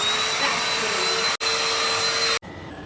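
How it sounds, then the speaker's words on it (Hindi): A small portable vacuum cleaner meant for car use runs with a loud, steady high whine and airy roar, dropping out for two brief moments before resuming. "ये छोटा सा वैक्यूम क्लीनर कितना अच्छा लग रहा है।"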